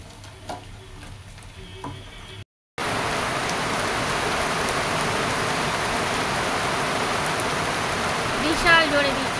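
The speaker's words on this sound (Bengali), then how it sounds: "বিশাল জোরে বৃষ্টি পড়ছে আর বড় বড় ফোঁটা পড়ছে" Heavy rain pouring hard with big drops, a dense continuous roar that starts abruptly after a short quieter stretch of indoor sound and holds steady and loud to the end.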